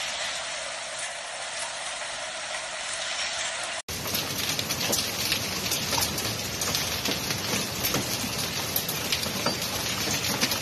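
Destructive hailstorm in Sant Julià de Lòria, Andorra: a dense, steady roar of hail or heavy rain pelting surfaces, with a brief cut near four seconds after which the clatter grows louder and fuller, continuous and close, with no voices.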